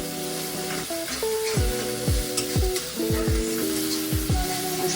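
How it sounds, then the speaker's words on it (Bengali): Masala with cashews is slowly stir-fried in a pan for a yogurt-mustard pointed gourd dish: a continuous loud sizzle with repeated scraping strokes and squeaky tonal whines from the spatula dragging across the pan bottom. "আস্তে আস্তে আমি কষিয়ে নেব।"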